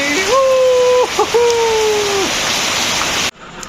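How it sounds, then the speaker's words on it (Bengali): Heavy rain pours down steadily as a loud, dense wash of noise, with a few brief tonal whistles over it before the sound cuts off near the end. "অনেক বৃষ্টি, প্রচুর পরিমাণে বৃষ্টি"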